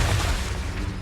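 A Confringo fire spell detonates in Hogwarts Legacy as a brief, dense blast with a heavy low rumble that fills the whole moment.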